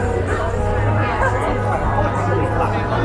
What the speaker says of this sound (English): I'm just trying to get out of this crowd here